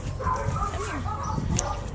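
A terrier and pit bull mix dog gives a couple of short barks and yips nearby while a person talks over it.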